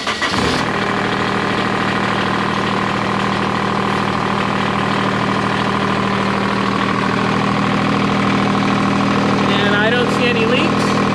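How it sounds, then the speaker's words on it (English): A tractor engine cranks and catches with a loud burst, then settles into a steady, droning idle that runs for about ten seconds, with a brief voice near the end. "Starting engine."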